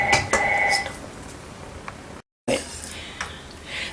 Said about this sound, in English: the phone rang just then